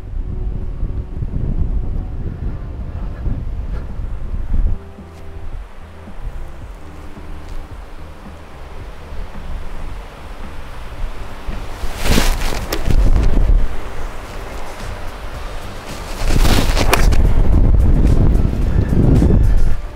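Strong wind gusting across a golf course in Tenerife, rumbling buffets hitting the microphone, rising and falling over a steady roar with two sharp louder gusts.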